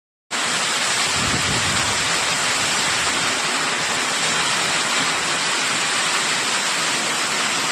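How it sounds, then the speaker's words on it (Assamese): Heavy rain pours steadily in a storm with strong wind, a dense, loud, continuous roar of water that never lets up, with no voices. "এনেকুৱা বহুত ডাঙৰ বৰষুণ আৰু বতাহ"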